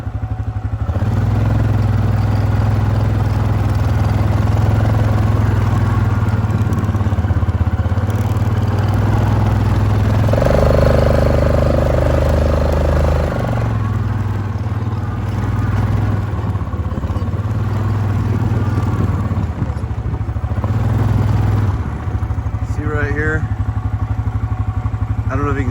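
A Yamaha Grizzly ATV engine drones steadily while riding a Utah trail, loud and continuous with a low rumbling tone that shifts slightly in pitch as the throttle changes, with wind noise throughout.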